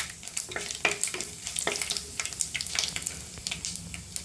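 Mustard seeds, cumin and dried chillies spluttering in hot oil for mango pachadi, giving sharp irregular pops and crackles over a steady sizzle, close and fairly loud with no talking.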